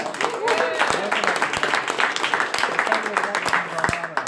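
Audience at a fintech startup weekend opening ceremony clapping to welcome the next speaker, steady moderate applause with scattered sharp claps and voices mixed in.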